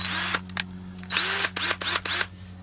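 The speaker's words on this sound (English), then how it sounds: "I will then manhandle a 3/4 inch drill bit." A power drill with a 3/4 inch bit drilling metal on a vehicle whirs in several short bursts, revving up and stopping, close and loud over a steady hum.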